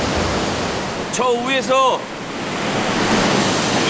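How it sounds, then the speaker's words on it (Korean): A four-tier waterfall gives off a steady, broad rushing roar throughout, and someone speaks briefly over it partway through. "4단 폭포, 4단 폭포."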